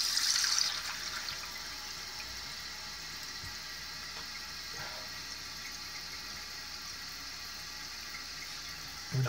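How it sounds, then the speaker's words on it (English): A Kohler toilet tank refills with water after a flush, giving a steady hissing rush with a brief louder gurgle at the start, continuing evenly throughout. "the water's filling up"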